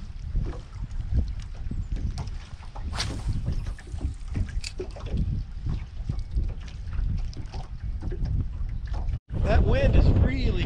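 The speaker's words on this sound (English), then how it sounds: "That wind has really come up." Strong wind buffets a fishing boat on Lake Lanier in winter, roaring steadily against the microphone with gusty surges and a brief dropout near the end, while someone talks over it.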